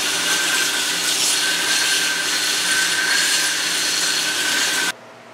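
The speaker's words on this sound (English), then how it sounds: "we're now going to put it on the knife making machine on the belt sander and reduce it to round" A belt sander on a knife-making machine grinds steadily, rounding down a metal shaft to fit steel tubing for a power hammer repair, a loud continuous abrasive rasp with a whine that stops abruptly near the end.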